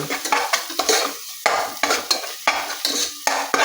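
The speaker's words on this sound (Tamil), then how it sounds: "மிக்ஸ் பண்ணி விடணும் ஸோ இஞ்சி பூண்டு பேஸ்ட்டும் அந்த வெங்காயம் அந்த பட்டை அந்த உப்பு எல்லாமே மிக்ஸ் ஆகணும்" Ginger garlic paste, onion, cinnamon and salt stirred in a pan for biryani, with a rhythmic series of close spoon scrapes and knocks over a soft sizzle, no talk.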